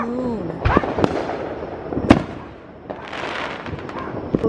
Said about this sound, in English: See the fireworks from the backyard. And you can hear them going.